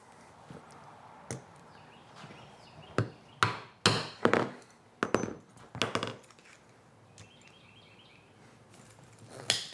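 Hammer strikes setting a rivet in a leather firefighter glove strap: a series of sharp, separate taps, mostly clustered mid-clip with a few spaced hits before and after, close and fairly quiet with no talking.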